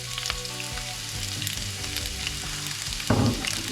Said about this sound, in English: What we're going to do is put the onions in.